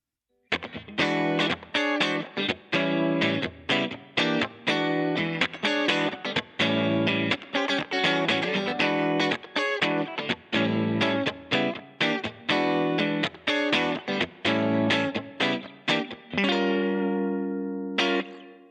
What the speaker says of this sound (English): This reverb pedal has been kind of cool because you get to dial in options a little bit differently than you do with an amplifier.